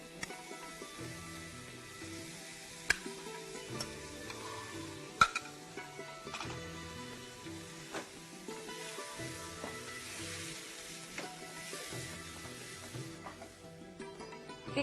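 Rice tipped into a pan of masala peas pulav and stirred, a steady low sizzle with scraping and clinks of the spoon running throughout, a couple of sharper knocks against the pan, no voices.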